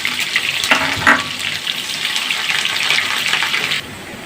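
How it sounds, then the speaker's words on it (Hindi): Chopped onion and black peppercorns frying in hot oil in a pan for a besan kadhi tempering, a steady close sizzle with a couple of brief louder spatters, then the hiss drops a little near the end. "प्याज के साथ ही ये गोल मिर्च भी मैं इसमें शामिल कर रही हूँ ताकि ये भी साथ साथ थोड़ा सा फ्राई हो जाएंगी"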